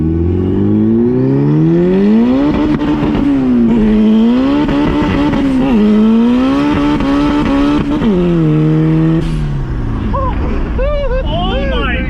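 A tuned all-wheel-drive Acura Integra with a K-series engine and a mechanical pump fuel system, heard loud and close as it revs hard through repeated gear climbs and shifts, the engine note rising and falling continuously.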